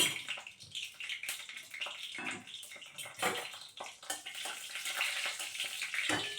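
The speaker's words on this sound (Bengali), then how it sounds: "আর এটা আমি একটু কালো জিরে ফোড়ন দিলাম" Nigella seeds crackle and sizzle in hot mustard oil as a tempering with slit green chillies, an uneven hiss rising and falling with sharp spitting bursts, close and fairly quiet, no talking.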